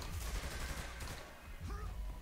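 Sustained bursts of gunfire from the video game Saints Row: The Third, loud and rapid, with a short lull midway before shooting picks up again.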